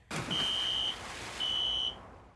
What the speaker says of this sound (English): Carnival says as a safeguard, they are now testing alarm systems like this